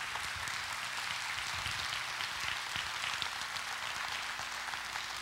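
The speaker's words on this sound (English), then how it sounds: "Give them a good hand clap this morning." Audience applause for World War II veterans at a morning church gathering, a steady wash of many hands clapping that sounds distant and soft, continuous for the whole stretch with no voices over it.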